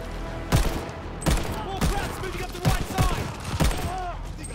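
Gunfire in Call of Duty: Vanguard comes as a series of sharp, spaced shots with echoing tails, about seven bursts in under five seconds over a constant low rumble.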